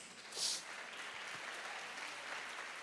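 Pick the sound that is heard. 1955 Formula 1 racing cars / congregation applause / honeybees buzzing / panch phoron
congregation applause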